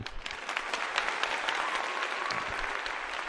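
A burst of crowd applause rings out, dense and continuous clapping from many hands at moderate level, alone with no talk over it.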